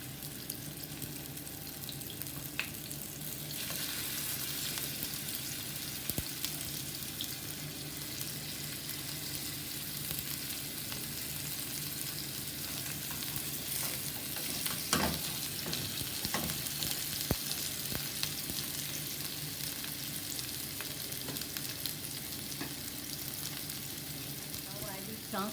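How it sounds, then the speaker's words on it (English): Chicken seekh kebabs sizzle steadily in a pan, a continuous close frying hiss running the whole time with a few faint clinks and scrapes, and no talking. "Transfer this kebab to cook in another pan on slow fire."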